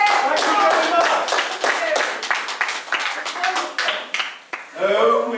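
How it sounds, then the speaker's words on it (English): A live audience gives a round of applause for volunteers on stage, dense hand clapping rising and thinning in waves, then a voice begins talking near the end. "round of applause, please."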